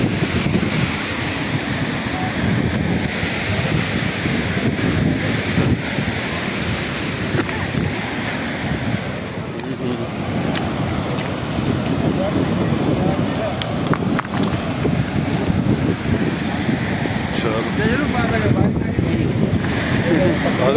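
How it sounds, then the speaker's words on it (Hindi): Water rushing steadily over the spillway at Mohanpura Dam in Rajgarh, a loud, continuous roar heard from above, mixed with wind buffeting the microphone, with someone talking intermittently over it. "नीचे देख सकते हो जहाँ पर वाटरफॉल हो रहा है"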